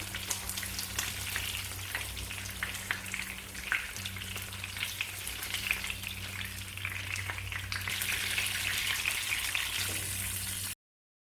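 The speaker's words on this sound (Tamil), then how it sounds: "ரெண்டு பக்கமும் நல்லா செவக்க வேக வச்சு எடுத்துக்கலாம்" Masala-coated fish fries in a pan until browned on both sides, a dense, crackling sizzle with popping spatters that runs steadily, growing slightly brighter, then stops suddenly.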